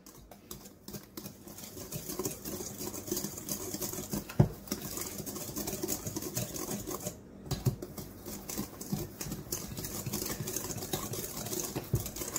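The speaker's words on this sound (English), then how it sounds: "And we're going to whisk that together." Granulated sugar and cocoa powder are whisked together in a bowl, producing a soft, quick patter of tapping and scraping that runs continuously at low volume.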